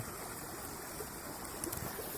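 The small Rakówka river flows past concrete blocks, a soft, steady rushing and trickling of water at low volume, with a few faint splashes and no voices.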